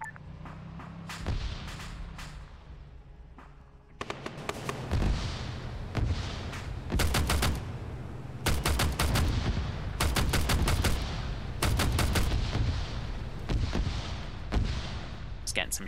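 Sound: gunfire in a video game

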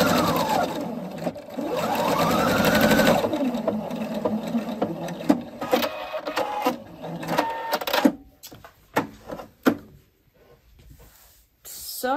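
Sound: sewing machine stitching a straight side seam in woven fabric

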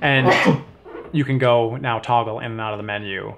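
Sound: sneeze

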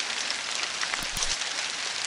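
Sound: heavy rain

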